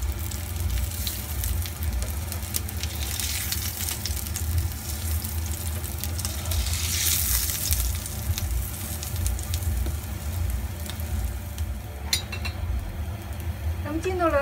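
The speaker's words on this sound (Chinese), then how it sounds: "我咁煎香咗一边，将呢边反转嚟煎啦。" Potato cakes sizzle in oil in a wok as they are flipped to the other side, a steady close frying hiss with a few utensil clinks and scrapes near the end.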